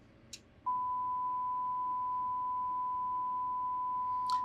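A steady, pure sine-wave test tone from a signal generator switches on and holds unchanging, with a couple of faint clicks around it.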